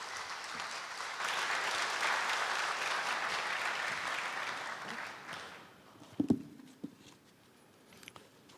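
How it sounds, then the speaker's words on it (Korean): Audience applause at Korea University's 118th anniversary ceremony, a dense, steady clapping that fills the hall for about five seconds, then fades into a quieter room with a few scattered thumps and footsteps. "여러분 다시 한번 큰 박수로 맞이해 주십시오"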